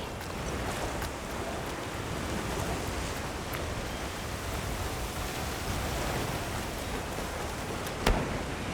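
Heavy rain pours down steadily in a Monster Hunter Wilds game scene, a dense, even wash of hissing drops with no gaps. A brief sharper splash or crack cuts through near the end.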